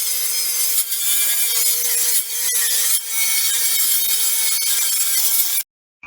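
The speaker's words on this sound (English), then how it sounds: "I went ahead and decided to cut up the cross member planks" Continuous power saw cutting wooden cross member planks, a bright, loud whining rasp close up that runs steadily with brief dips, then stops abruptly.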